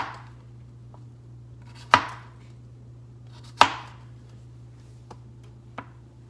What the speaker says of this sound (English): I usually cut it into little round slices, and then I'll cut the slices into like thirds or fourths